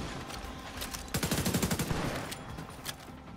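Automatic gunfire in the shooter game Tom Clancy's The Division 2, a fast rattling burst in the middle of the stretch with fainter scattered shots before and after.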